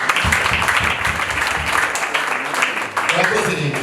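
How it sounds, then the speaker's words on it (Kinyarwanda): Wedding guests applaud together in a dense, sustained burst of clapping, with voices talking over it. "tukoma amashyi menshi tuko twabagangurukije"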